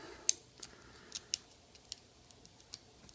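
Pins clicking inside a Japanese dimple lock being picked, a series of faint, sharp, irregular ticks close to the microphone against a quiet background, with no talk.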